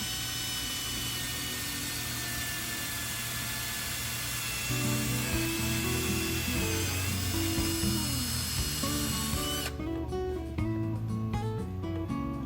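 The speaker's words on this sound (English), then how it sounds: "So now it's time to go through and drill the holes for the screws." Power drill boring screw holes for cabinet knobs, a steady high whine that shifts pitch as the bit bites and ends abruptly near the close, with no talking.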